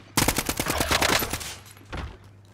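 Close, loud automatic gunfire in a video game: one rapid burst of shots lasting over a second, then a brief pause and a single softer shot or echo.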